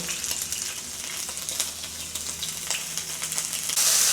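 Marinated shrimp laid in a single layer fry over medium-high heat, giving a continuous moderate sizzle with scattered crackles and pops throughout.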